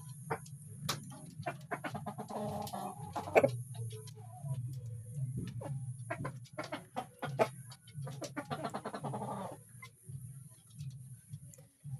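Young pullet hen clucking nearby, a series of short broken clucks and soft calls in irregular bursts, fairly quiet against a low steady background hum.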